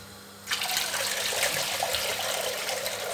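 Tap water pours steadily into a kitchen sink as rice is rinsed and drained, starting abruptly after a brief quiet moment and then running close and continuous with light splashing.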